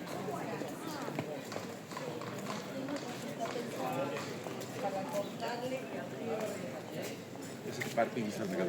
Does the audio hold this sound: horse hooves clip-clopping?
yes